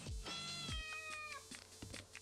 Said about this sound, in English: This is a cat.